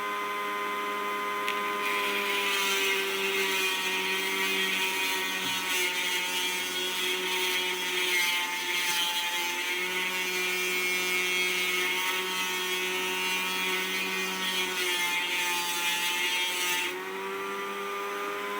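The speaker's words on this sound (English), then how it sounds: "I think I'll just drill this one" A power drill bores steadily through a Tasmanian jade pendant, a sustained high whine with a grinding edge running unbroken for many seconds before easing off at the end.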